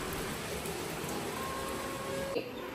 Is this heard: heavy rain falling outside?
yes